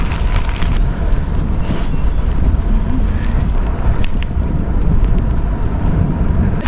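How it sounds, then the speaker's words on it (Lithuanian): Strong wind at the seaside buffets the microphone with a loud, constant low roar and rumble throughout, and a faint brief higher tone shows up briefly in the middle. "Nu, tas vėjas tai geras."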